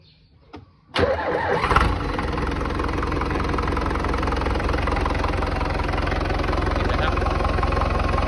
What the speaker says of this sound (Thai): เดี๋ยวมาสตาร์ทเครื่องดูนะครับ